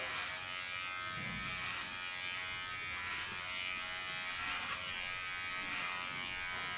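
Electric clippers buzz steadily up close, a constant whirring drone with slight changes as they move through very strong hair.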